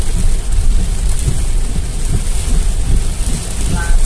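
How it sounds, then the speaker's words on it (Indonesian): Heavy rain drums hard and steady on a car during a drive through Brebes regency in a thunderstorm, a loud dense roar with low rumbling that could be thunder, and no clear speech over it. "Ya, ada petir, cuy. Udah mulai nih, kita udah mulai diserang petir."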